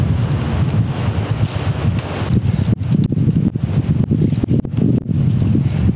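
Strong, cold winter wind buffets the microphone in heavy, rumbling gusts at a below-freezing tepee campsite, continuous and loud throughout, with no voices.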